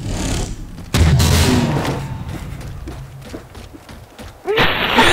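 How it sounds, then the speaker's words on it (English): A bridge blown apart by an incineration cannon in Halo 4, heard as a sudden heavy boom and rumbling crash, then a second loud burst near the end, with other game sounds in between. "I broke the bridge"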